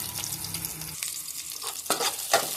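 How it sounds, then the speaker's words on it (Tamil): Ten small onions and four or five garlic cloves frying in hot oil for a fish curry, a close crackling sizzle with stirring scrapes, then sharper spatters near the end. "வெங்காயம் பூண்டு லைட்டாக ரோஸ்ட் ஆன உடனே"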